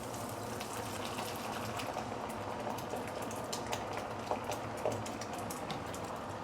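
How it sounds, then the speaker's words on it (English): Filtered water poured into a pan where a fish head is braising, giving a continuous hissing gush with faint sizzling crackle, fairly close and steady throughout, with no talking. "Let me add in some filtered water."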